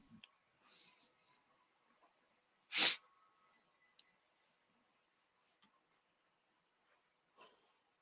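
One loud, sharp human sneeze bursts out in a quiet room, standing alone amid faint clicks and small background noises.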